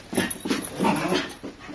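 A dog whines and yips in a few short, close bursts, its high-pitched vocalizations rising and falling.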